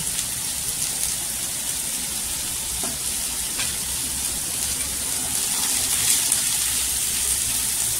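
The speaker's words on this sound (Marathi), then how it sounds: "तेलावर परतून घ्यायची। भाजी सगळी करणं छान अशी परतून घ्यायची।" Bitter gourd sabzi sizzles steadily in hot oil in a pan, a continuous close frying hiss with occasional stirring scrapes, no voices over it.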